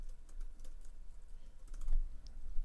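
Fast typing on a computer keyboard, a rapid run of light clicking keystrokes at close range, steady and alone without talk.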